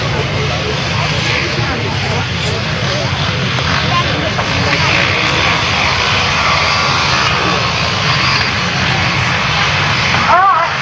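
Grasstrack racing motorcycles at a 1991 meeting roar off the start together, a loud, dense, continuous engine drone that holds steady throughout, with crowd noise and commentary mixed in.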